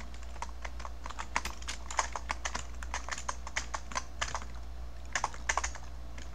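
Someone types on a computer keyboard in quick, irregular bursts of clicking keystrokes. The clicks are close and crisp over a low steady hum.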